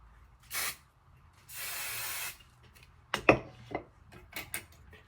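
Two bursts of aerosol hairspray, a short hiss then a longer steady one, followed by light clicks and taps of handling.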